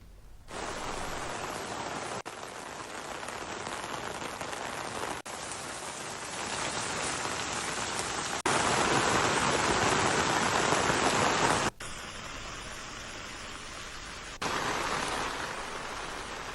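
Steady, dense rainfall pattering on a surface, loud and continuous with no voices, shifting slightly in intensity a few times.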